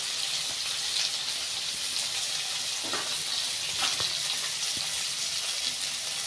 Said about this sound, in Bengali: মশলাটা ভালো করে কষতে নেবো 2 মিনিট মতো।